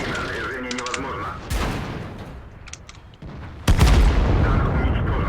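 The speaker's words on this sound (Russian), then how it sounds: "вот этот вот танк, он делает сразу несколько выстрелов" An IS-7 tank in a Soviet-branch tank video game fires several shots in quick succession, loud booming blasts with sharp cracks and rumbling tails, mixed with game voice alerts.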